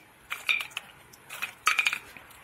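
Small walnuts tossed onto a plate make a few sharp, close clinks and knocks in two short clusters, with quiet gaps between them.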